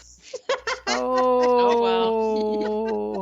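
During a tabletop game session, a person imitates a chihuahua bark with a few short yips followed by a long, high, whining howl-like cry, close and loud, after a brief spoken exclamation.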